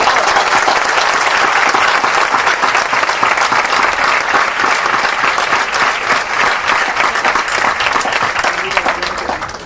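Large crowd at a university campus event applauding, a loud, dense, steady wash of clapping that holds for nearly ten seconds before starting to fade.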